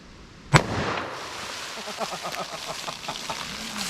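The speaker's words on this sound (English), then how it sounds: "First up we have our 357 mag. See what this will do." .357 Magnum revolver fired at a test box from a few feet away, a single sharp loud crack followed by a fading rumble and light rattling.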